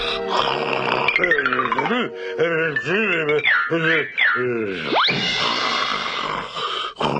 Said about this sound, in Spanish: Miren ese ronquido.